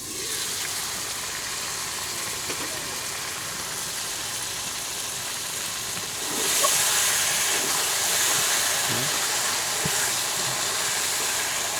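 Shing fish with taro and potato cooking in a covered pan, with a steady close steam hiss and sizzle that grows louder and brighter once the lid is lifted partway through.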